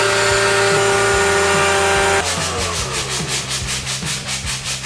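Steady abrasive rubbing of a sander against a metal plate's edge, continuous at first, then shifting into a rapid pulsing grind with a motor hum underneath.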